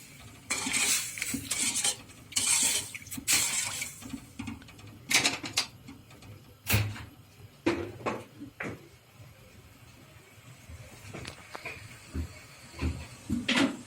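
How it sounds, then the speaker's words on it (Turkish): A spoon scrapes and clinks against a pot of sugar syrup being stirred for baklava, with irregular metallic knocks and rattles, some louder bursts early on, then softer stirring. "şerbetimiz yavaş yavaş kaynamaya başladı arkadaşlar. Şimdi biraz daha karıştıracağım bir tık daha."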